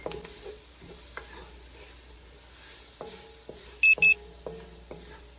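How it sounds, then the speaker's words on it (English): Spoon stirring cumin, coriander, turmeric, paprika and chili flakes in a pot, giving a series of distinct scraping strokes over a soft sizzle, with a short pair of electronic beeps partway through. "Stir for about a minute to wake up those delicious spices"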